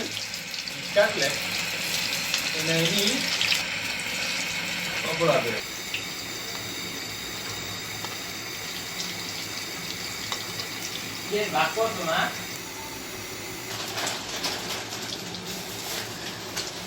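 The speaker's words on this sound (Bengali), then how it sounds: "ফিশ কাটলেটগুলো ভেজে নিচ্ছে এখন।" Fish cutlets sizzle in hot oil in a home kitchen, a steady hissing fry with brief clattering bursts and some background noise throughout.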